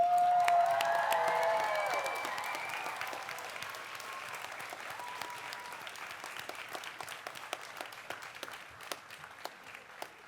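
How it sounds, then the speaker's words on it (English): Graduates at a College of Charleston commencement ceremony give a big round of applause to their families and friends, broad and steady crowd clapping that settles to a lighter patter, with a few voices at the start. "Graduates, I would like for you to please stand and thank your families and friends with a big round of applause."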